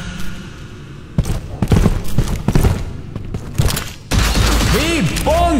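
Gunfire in the turn-based tactical game Showgunners: a run of sharp gunshot bursts and thuds, loud and close, followed by a sustained roaring stretch with rising electronic sweeps.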